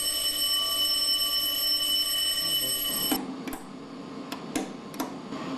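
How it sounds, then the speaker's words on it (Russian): An altitude warning alarm sounds in a light aircraft at about 5700 m, a steady high electronic tone over a constant engine drone, then it cuts out leaving a few short clicks and thumps. "Сработала у нас звуковая световая сигнализация."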